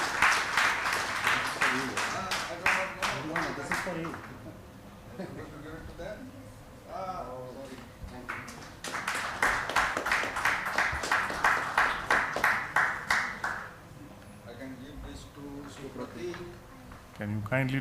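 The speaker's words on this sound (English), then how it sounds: "Can we have a bigger round of applause for the speakers?" Audience applause at a people management conclave, with dense clapping in two long bursts, one at the start and another midway, separated and followed by talking over a PA.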